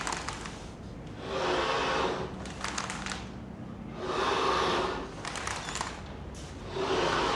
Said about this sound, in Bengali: তারপর হচ্ছে এই প্লটার মেশিনে এটা প্রিন্ট করা হয়